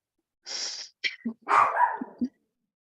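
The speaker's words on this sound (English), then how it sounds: "I hear a puppy, and it is a happy puppy over there." A puppy gives a few short, high yips and a breathy little whine, close by, in a quiet room.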